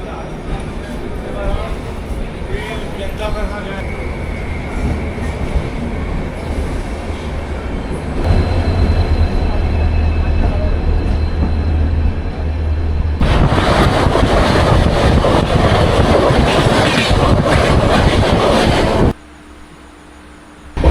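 A passenger train runs through the night on the route toward Dhenkanal, heard from inside as a loud continuous rumble and rattle of wheels on track that grows heavier midway, with voices talking over it.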